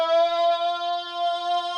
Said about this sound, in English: you can create chorus kind of effects from this as well